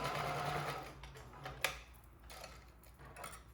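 A sewing machine stitches the side seam of a fabric face mask, whirring near and steady at first, then easing off, with a sharp click partway through.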